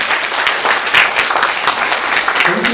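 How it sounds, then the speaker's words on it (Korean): Church congregation at a Sunday service applauding to welcome a visiting family from New Zealand; steady, dense clapping fills the room throughout. "아주 박수로 환영해 주시면 감사합니다."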